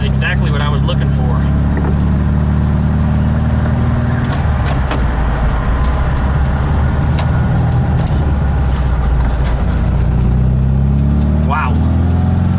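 A Volkswagen Type 3 fitted with dual carburetors drives along with a steady, loud engine drone, rising as it revs near the end, heard from inside the car.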